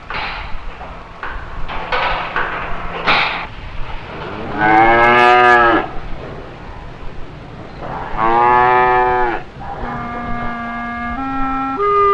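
Dairy cows on a mechanized farm moo in several long, loud calls, with quieter farm noise in the gaps between them.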